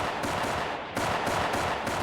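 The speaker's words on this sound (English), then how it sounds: "here's what they sound like in New Line's version" Replacement gunshot sound effects from the Police Story dub, a rapid burst of dense automatic gunfire in quick repeated bangs, loud and close, with a short gap before firing resumes.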